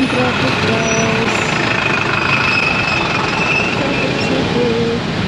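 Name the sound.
street traffic heard from a taxi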